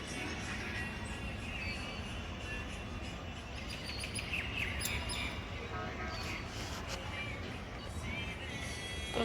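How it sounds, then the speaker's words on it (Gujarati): Small birds chirp outdoors on an evening, faint scattered tweets over a steady wash of background noise. "બીજા બે પક્ષી આવ્યા"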